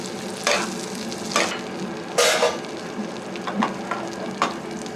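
Fish cooking gently in softened butter in a restaurant pan, a soft continuous sizzle broken by several brief louder bursts of spattering.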